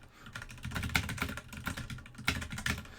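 Rapid, dense clatter of fast typing on a computer keyboard during a typing race, continuous keystrokes with brief louder bursts, close and alone without talk.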